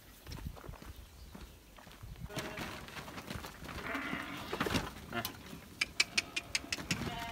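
Horse hooves clip-clop at a walking pace while herding sheep outdoors on a farm, a few sharper clacks near the end, with faint talk in the background.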